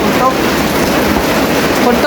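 Heavy rain that has been falling all day and night makes a dense, constant hiss, loud and close, with no break.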